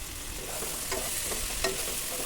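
Mushrooms frying in masala for pulao and being stirred in the pan: a steady close sizzle with a few soft scraping stirs, no talk.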